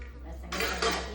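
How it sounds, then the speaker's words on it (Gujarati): Dishes and utensils clatter as they are gathered up in a home kitchen after a meal, with two bright clanking bursts over a low steady hum. "વાસણ બધું ભેગો કરી રહી"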